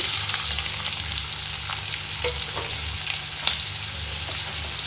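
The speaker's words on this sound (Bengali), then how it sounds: "যে পেঁয়াজটা আমি কুচি করে নিয়েছিলাম সেটাই আমি দিয়ে দেবো ফোড়নের জন্য" Chopped onion frying in hot oil as a tempering for mutton curry with potato, a steady close sizzle with occasional stirring scrapes throughout, no talk.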